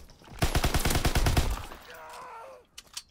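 WW2 video game gunfire, a rapid burst of close, loud automatic shots lasting over a second, followed by a fading mechanical whine and a couple of sharp trailing clicks.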